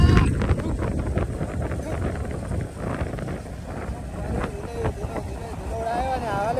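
Wind buffets a microphone while a motorbike rides along an open road, a rough low rumble with gusty roar throughout, and a person speaks over it toward the end.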